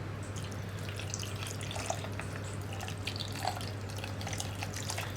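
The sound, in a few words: water poured onto grated coconut for second milk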